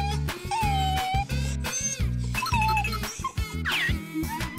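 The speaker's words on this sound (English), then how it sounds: "Dog." A cartoon dog whimpers and yips in a children's animal painting cartoon, with a run of high, whiny cries and short yelps over continuous upbeat music.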